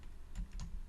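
Typing on a computer keyboard while writing a C program in Visual Studio 2022, a few soft key clicks close by over a quiet room hiss, with no voices.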